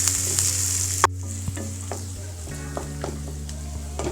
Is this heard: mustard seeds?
yes